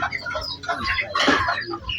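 Chickens cluck close by in a short burst of several calls, with a slightly louder squawk in the middle and no talking.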